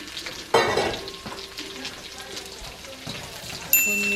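Onion added to garlic already browning in a hot frying pan for pancit, giving a burst of sizzling and frying crackle that settles into a steady hiss, with a second flare near the end and a voice talking over it.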